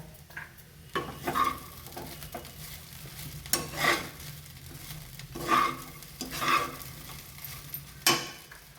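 Bengali chirer polao, flattened rice with winter vegetables, stirred in a pan as dry peanuts are scattered in, soft sizzling under rhythmic scraping strokes and occasional spoon knocks, close and without speech.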